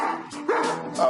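A man imitates a dog barking in a scene from the TV series Supernatural, giving three short, loud, voiced bow-wow yelps in quick succession at close range.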